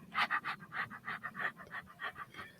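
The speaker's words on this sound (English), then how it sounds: "we just want to hear him breathing" Close, heavy breathing right into the microphone, a steady run of raspy in-and-out pants with no talking.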